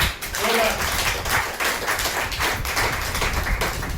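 A crowd at an Agra team training event gives steady applause for a senior guest. The dense, continuous clapping runs for several seconds, with voices underneath.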